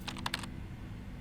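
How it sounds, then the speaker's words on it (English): Rapid clatter of keys typed on a computer keyboard, a short close burst of about half a dozen clicks that then stops, leaving quiet room tone. "I used his keyboard and typed,"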